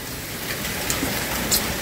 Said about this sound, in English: Cooking in the rain.